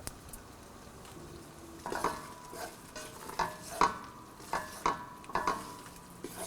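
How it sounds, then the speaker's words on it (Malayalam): A pinch of salt is mixed into ada pradhaman in a pan with repeated soft scraping and tapping strokes of a spoon at a moderate pace over a low background hiss. "ഒരു പിഞ്ച് സോൾട്ടും കൂടി ആഡ് ചെയ്ത് മിക്സ് ചെയ്യുക"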